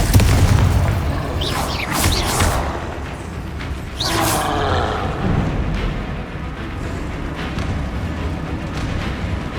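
In Hogwarts Legacy, a fiery Confringo spell goes off in a couple of loud, booming blasts with whooshing tails, near and heavy, followed by a rumbling fade beneath ongoing game ambience.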